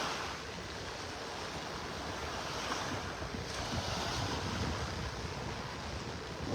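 Steady surf washing onto the beach beside Naples Pier on a morning walk, a continuous broadband roar of waves with some wind buffeting the microphone, no voices.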